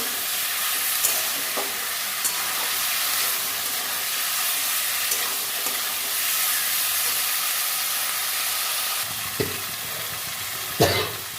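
Paneer chili mixture with cumin sautéed in a pan, a steady broadband sizzle running throughout with a few sharp scraping stirs near the end.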